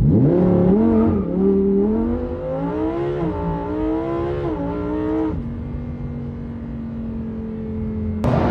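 A car accelerates hard from a standstill toward 60 mph on a street surface, engine rising through several loud climbing gear pulls with brief shifts, then settling into a steady drone before a sharp click ends it.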